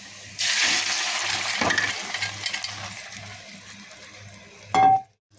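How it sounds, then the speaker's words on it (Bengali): Boiled mixed vegetables tipped into a wok of hot mustard oil already fried with onion, garlic and radhuni, giving a loud sustained sizzle that slowly fades, with a brief sharp hiss and clatter near the end. "ফোড়ন দেওয়ার জন্য এই যে কড়াইতে তেল সরিষার তেল দিয়েছি আর পেঁয়াজ রসুন আর হচ্ছে রাঁধুনি দিয়ে এটা ভাজে নিয়েছি"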